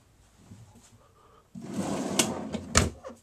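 A wooden drawer under the bed in a 2006 Marlow Prowler 375 travel trailer slides open and shuts with a couple of sharp knocks, close and fairly quiet, no talking.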